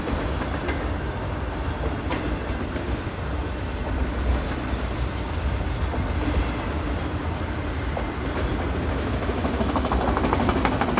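Several trains rolling through a wide rail area, recorded as an ambient soundscape: a steady, continuous rumble with faint clickety-clack of wheels and occasional higher squeals, moderately loud and unbroken, no voices.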